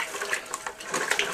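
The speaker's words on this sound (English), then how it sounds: "The water's really dirty and stuff, and I don't want to get my panning trough all dirty water, so I'm panning into this bucket" Dirty water sloshes and splashes as a gold pan is rocked over a bucket, a steady close wet swishing with small irregular splashes and no talk.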